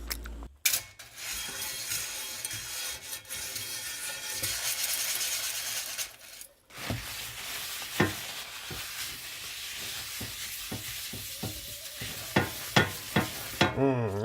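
An omelette with sweet red peppers sizzles steadily in a cast iron pan, a close continuous hiss with a short break and scattered utensil clicks and taps toward the end.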